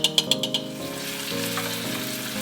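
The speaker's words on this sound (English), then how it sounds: "Now that we've sauteed the onions with the turmeric, we're ready to go to the next stage, which is adding the curry leaves and the minced garlic" Onions, turmeric, curry leaves and minced garlic sizzle in a pan for a Ceylon cinnamon chicken curry, with a steady close frying hiss and a few quick stirring scrapes at the start.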